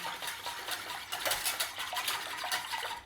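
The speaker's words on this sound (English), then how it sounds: "We're going to give that a mix in." A spoon stirring orange-red food colouring into a sweet and sour pork sauce, producing quick, light clinks and wet scraping taps against the bowl in an irregular rhythm, close and moderately loud.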